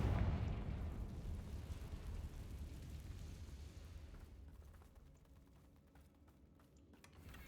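A Confringo blasting spell explodes in a Harry Potter game, a loud booming blast that rumbles and slowly fades over several seconds, followed by faint crackling debris near the end.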